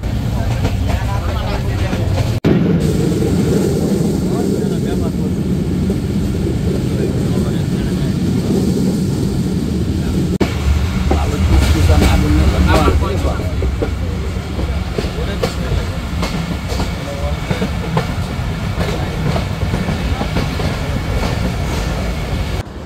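Titumir Express passenger train rolling on rails into Santahar junction, Bangladesh's largest rail yard, after rain; a steady, loud rumble of wheels and carriage noise with rhythmic clatter throughout, and voices faintly mixed in.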